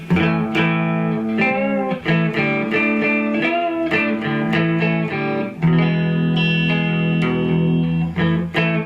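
An electric guitar, an imitation Gibson ES-339, plays a riff of sustained, heavily distorted chords and notes, loud and close, with no voices.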